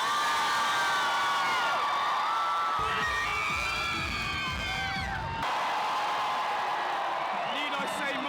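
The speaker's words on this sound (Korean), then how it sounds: "대원들의 마지막 함성이 밤하늘에 울려 퍼졌습니다." Thousands of World Scout Jamboree scouts cheer and whoop at an outdoor night K-pop concert, a dense continuous roar of high-pitched shouts from a huge crowd.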